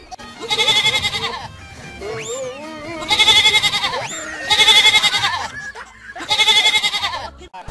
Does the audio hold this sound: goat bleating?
yes